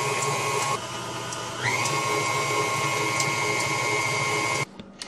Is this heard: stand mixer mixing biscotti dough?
yes